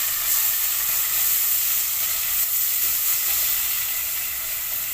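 Grated carrot added to fried onions in a pan while making fish rice, a steady bright sizzle and hiss of frying, even and close.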